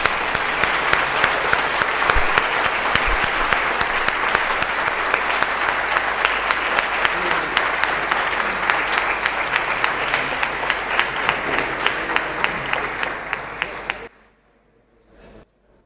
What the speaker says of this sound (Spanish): un aplauso para toda la asociación